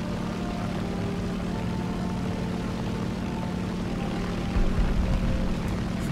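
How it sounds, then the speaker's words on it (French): Many aircraft arriving in an air combat video game, a steady propeller-engine drone with broad rumble holding throughout, growing a little louder near the end. "Oh là là, la quantité d'avions qui arrivent."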